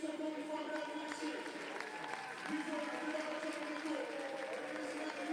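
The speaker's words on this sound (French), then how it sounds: "Des applaudissements, le public est resté jusqu'au bout" A crowd applauds at a football match between racing drivers, a continuous patter of clapping with a commentator talking over it throughout.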